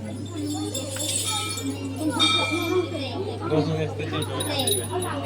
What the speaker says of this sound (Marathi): काय वाजतोय तू काय बाई घंटी